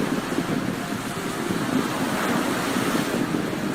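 Ocean surf on a Florida beach rolls and hisses continuously, close and fairly loud, with wind buffeting the microphone and no voices.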